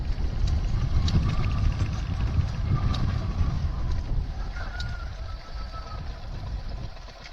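Wind blows across open fields, a steady broad rush with gusty buffeting against the microphone that holds throughout and eases slightly toward the end, with faint tonal sounds drifting in the background.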